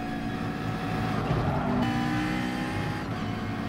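A race car on a qualifying lap in Gran Turismo Sport holds a loud, steady high-revving engine whine, briefly swelling before easing back through the run.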